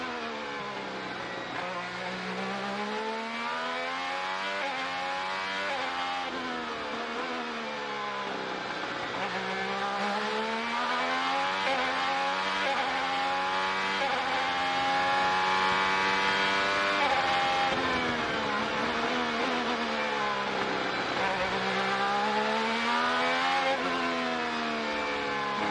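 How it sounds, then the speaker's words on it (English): An IndyCar race car heard onboard during a lap of the Long Beach street circuit, its engine screaming loud and continuous, rising through the gears and dropping on downshifts into corners several times, with no voices. "cars out on track"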